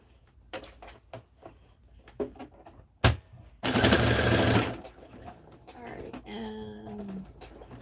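A sewing machine stitches through denim and flannel in a loud burst of about a second, set among short clicks and handling noises, with a person speaking before and after.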